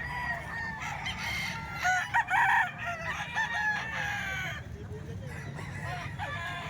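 Several Talisayin roosters crow loudly in overlapping calls at a poultry market in Calumpit, Philippines, with clucking and a busy crowd murmur in the background.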